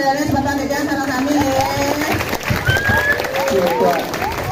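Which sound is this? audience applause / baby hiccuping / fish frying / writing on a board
audience applause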